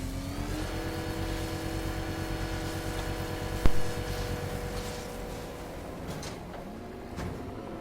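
Batmobile engine in Batman Arkham Knight revving steadily with a droning, layered mechanical hum, a sharp clunk near the middle, then a rising rev toward the end.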